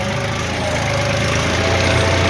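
A 50 horsepower farm tractor engine idles in a steady, even mid-pitched drone, close and unbroken throughout with no voices over it.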